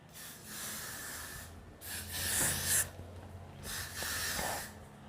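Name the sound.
hairspray spraying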